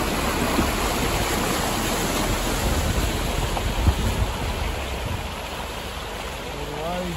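Floodwater rushes and churns continuously into a dam during the 2022 Moree flood, a broad steady roar of flowing water close by, with no pauses.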